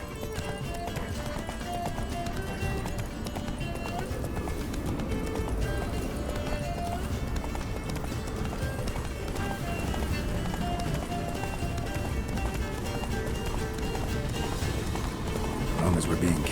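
Roach the horse gallops in The Witcher 3, with continuous rapid hoofbeats running under a busy game soundtrack and voices talking over it throughout.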